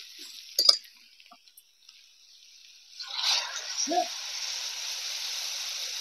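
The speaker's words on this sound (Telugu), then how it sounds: "ఈ మామిడి కొక్కులు కింద అంటుకోకుండా ఉడకాలంటే వాటర్ వేసుకుందామండి" Water is poured into a pan of cooking mango-shell curry: a few small clinks first, then a rushing pour that settles into a steady hiss and bubbling.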